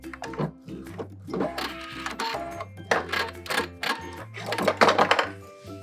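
A sewing machine backstitches through stiff, heavy-duty twill denim while making high-waisted shorts, giving off short bursts of close, busy mechanical stitching that stop and start between pauses.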